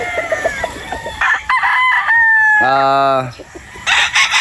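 Several cockerels crow loudly and close by on a poultry farm, with overlapping cock-a-doodle-doo calls and some clucking in between.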